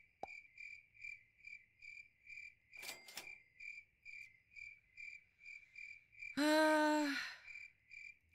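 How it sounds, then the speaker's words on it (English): Crickets chirp in a balloon video game, a steady pulsing trill repeating at regular intervals, interrupted briefly by a soft rattle and then by a louder tonal game chime. "I've gotten used to the birds and the crickets."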